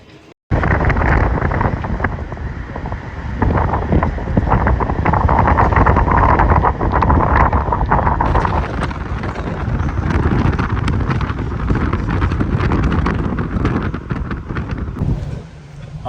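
Strong wind gusting in an open area over water in Srinagar, Kashmir, a loud, continuous rough roar buffeting close against the microphone for the full length, surging and easing slightly with no voices.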